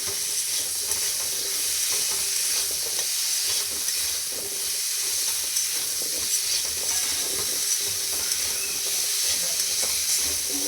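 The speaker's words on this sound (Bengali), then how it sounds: "আলুগুলো একটু লাল লাল করে ভেজে নিই।" Potatoes frying and browning in a pan on a home stove, a continuous bright sizzle with occasional stirring scrapes throughout, steady and close with no talking.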